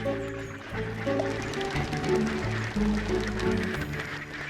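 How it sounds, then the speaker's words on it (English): Mallard ducks quacking on open water in winter, a steady chorus of calls close by with some splashing. "Mallard ducks quickly turn the basin into a wintry spa."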